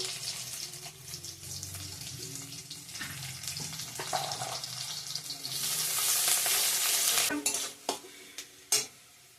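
Cumin seeds hit hot oil in a pan while cooking a rohu fish curry, giving a loud, close, hissing sizzle that swells midway, with stirring and a few sharp utensil knocks toward the end.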